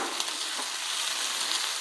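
Steady, close sizzling and crackling of garlic, ginger and chillies frying in hot oil, continuous and fairly loud with no voices.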